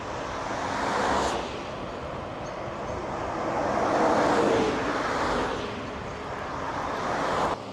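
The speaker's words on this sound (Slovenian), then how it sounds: "Vsake toliko pride kakšen avto" A car passes on a quiet rural road near Most na Soči, its broad road rumble swelling and fading in a couple of gentle waves, fairly close and with no one talking.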